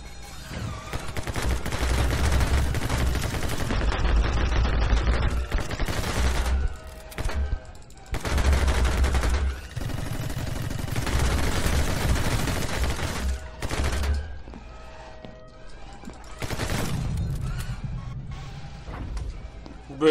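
Kar98 rifle shots and other gunfire in the action game My Friend Pedro, dense bursts of loud shooting that come and go across the stretch under a voice talking.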